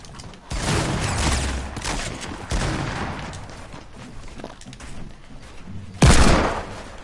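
Gunfire in an online shooter game, several loud broadband bursts of shots with a final heavy blast near the end, close and punchy, with a player's voice faintly under the action.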